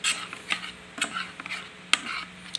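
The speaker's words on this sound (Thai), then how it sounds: "คนไปอย่าให้มันติดกระทะนะครับ" A spatula scrapes and stirs food around a wok over low heat, with several scattered scraping strokes, close and fairly quiet, alone without speech.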